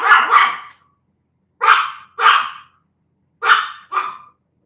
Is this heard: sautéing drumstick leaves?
no